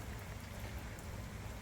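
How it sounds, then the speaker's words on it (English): Steady, dense rain falls on a rainy morning at a hostel, a continuous wash of drops with no voices. "Starting out rainy. It's going to continue rainy."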